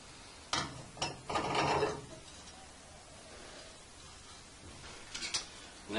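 The red retaining lock on a SawStop saw blade arbor is given a quarter turn, making a few quiet close ratcheting clicks and a short scraping turn, then a brief click cluster near the end.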